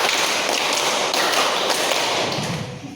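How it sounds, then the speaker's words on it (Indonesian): A classroom of students claps a call-and-response rhythm pattern, a dense run of many overlapping hand claps at close range that stays steady and then drops away at the end. "Ulangi, tepuk 4, tepuk 5, tepuk 4 2 kali"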